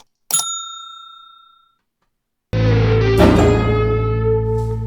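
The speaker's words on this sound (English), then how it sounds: "hit that notification bell to be notified whenever I drop" A single bright bell ding rings out and fades slowly, followed after a short silence by a loud, sustained burst of tonal sound.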